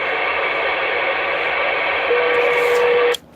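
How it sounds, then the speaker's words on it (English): Two-way radio transmission carries steady hissing static with a faint tone, loud and continuous for about three seconds before cutting off abruptly at the unkey. "Your little radio sound fine"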